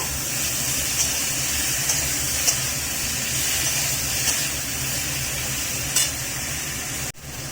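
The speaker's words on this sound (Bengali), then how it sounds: "টমেটোটা একটু ভেজে নেব।" Chopped tomato frying in a pan for a potato-tomato tangra fish curry, giving a steady, close sizzle and hiss with a few faint stirring clicks and a sharp knock near the end.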